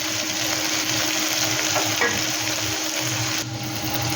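Carrots, beans and tomatoes sauté in a hot pan, giving a loud continuous sizzle with light stirring scrapes throughout and no talking.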